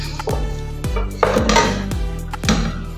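A whole desi chicken of about 2 kg with skin drops into a metal degchi cooking pot, giving a few distinct metallic clanks and knocks at close range.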